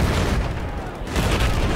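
Heavy, booming gunfire in Battlefield 4, dense and loud throughout with a short dip in the middle.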